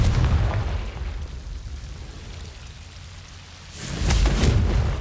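Explosive blast of the Confringo spell in Hogwarts Legacy, a rumbling broadband burst that swells and crackles toward the end after a quieter stretch of low rumble, with no voices.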